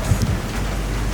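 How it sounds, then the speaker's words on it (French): Heavy rain pours down steadily outdoors in a city square in Emilia-Romagna during a thunderstorm, a dense, even hiss with no talk. "Ah, il pleut bien, hein?"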